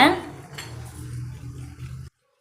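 Metal utensil scraping and clinking against a pot while mixing semolina, with a sharp clatter at the start followed by steady stirring before it stops abruptly.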